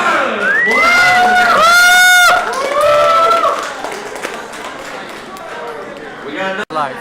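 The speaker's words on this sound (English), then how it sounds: "Round of applause for Cesar!" A crowd at the SmashFest gaming tournament cheers and whoops for the winner, Cesar, with loud rising shouts and clapping that thin out to a lower murmur near the end.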